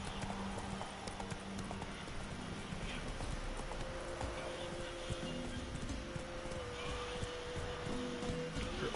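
Roach the horse trotting in The Witcher video game, a steady clip-clop of hooves over a busy, continuous outdoor ambience, with a faint whinny possible.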